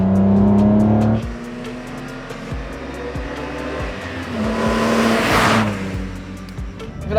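A BMW E46 M3 on the Laguna Seca circuit, its engine revving hard while driving, with a rising and falling engine note, a brief lift near one second and another build toward a loud peak, up close.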